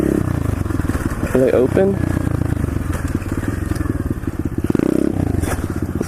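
A pit bike engine putters at idle with a steady low pulsing rhythm, close by, while a person speaks briefly over it.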